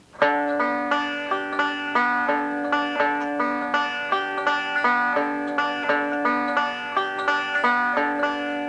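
Bright plucked banjo notes run in a continuous forward-backward bluegrass roll, the thumb striking the fourth string, repeating the pattern evenly over several bars, close-miked and solo without voices.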